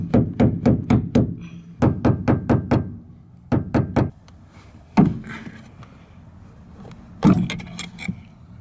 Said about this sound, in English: It's really hard to get your hammer in there.